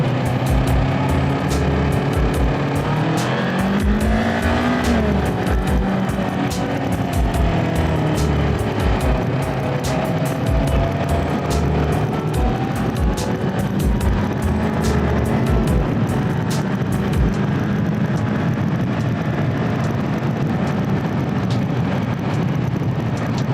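Road traffic heard from a Ninja 400 motorcycle: a continuous engine drone with shifting pitch and passing vehicles, loud and close throughout, with gusty wind noise and no talking.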